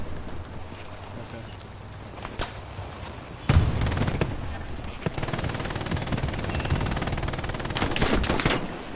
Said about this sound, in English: Yeah, I just heard that gunfire.